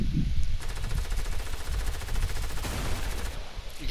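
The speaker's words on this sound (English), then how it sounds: "I got a SCAR and a pump shotgun for my two choices" A SCAR rifle fires a rapid, sustained automatic burst of nearly three seconds in the Fortnite video game, loud and close, with shorter shots before and after.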